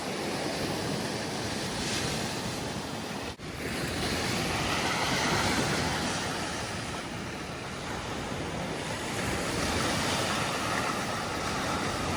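Black Sea surf rolling onto a beach at Kurortne, Odesa region, in July: steady broadband wash of breaking waves with wind noise on the microphone, one brief dropout, no voices.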